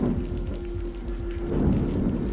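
Steady rain with low rumbling thunder in an audio drama, a continuous wash of downpour that swells slightly toward the end, with no voices.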